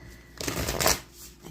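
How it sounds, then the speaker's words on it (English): Tarot cards shuffled by hand: one short, brisk riffling burst of fluttering card noise rising and falling in about a second, fairly quiet in a still room with no talk. "please focus right now while I'm shuffling."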